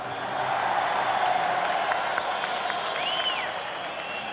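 Crowd at a Netanyahu rally applauding steadily, a dense, sustained wash of clapping and crowd noise with faint voices and occasional whistles mixed in.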